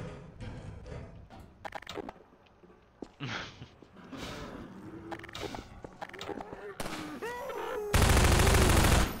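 Rifle fire in a zombie-themed first-person video game aimed at a ladder latch: scattered sharp bangs and clatter mixed with game effects, while a voice talks over parts of it and a loud burst of noise fills the end.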